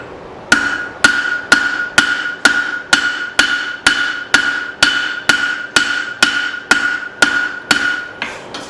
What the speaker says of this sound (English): Take my rounding hammer.